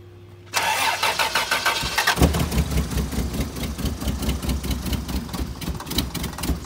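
Barn-find Toyota FJ62 Land Cruiser cranking briefly, then catching and roaring to life into a loud, rough, throbbing idle that carries on steadily, close by with no talk.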